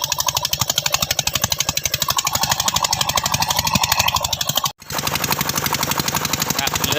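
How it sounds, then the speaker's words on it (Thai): A Chinese 13 hp engine on a steel boat chugs steadily and loudly at a low, even idle-like rhythm while pushing slowly through water hyacinth, close by and continuous throughout, with a brief dropout near the end. "เรือเหล็กนะครับเครื่อง 13แรงนะครับ ก็ค่อยๆดันไปเรื่อย ๆนะครับ"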